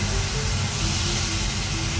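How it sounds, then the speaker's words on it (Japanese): Meat and green onions stir-fry with yakiniku sauce for a home bento lunch, a steady, even sizzle hissing at close range with no breaks and no voices. "ねぎもどんって入れて炒め合わせます"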